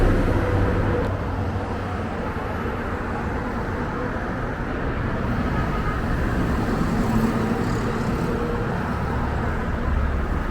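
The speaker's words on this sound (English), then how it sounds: "The traffic here is completely crazy, especially from what I've seen so far on the drive in here." Dense city traffic on Lebanese roads produces a continuous, loud roar of many engines and tyres without a break, a broad wash of motor noise with no clear single vehicle standing out.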